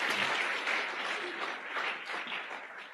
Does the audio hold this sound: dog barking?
no